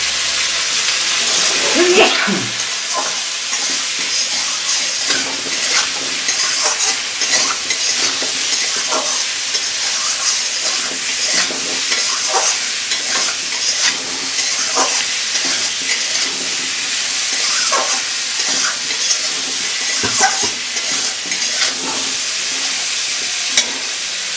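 Pumpkin and potato frying with turmeric make a loud, dense, close-up sizzle throughout, with repeated scraping and clattering as a spatula stirs the pan.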